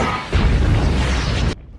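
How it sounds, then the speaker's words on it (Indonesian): A massive explosion from a fantasy battle against monsters, a dense roaring blast with deep rumble that sustains for over a second before cutting off abruptly into near silence. "Ledakan dahsyat pun terjadi dan menghancurkan sang ratu dan juga para Tao Ti lain"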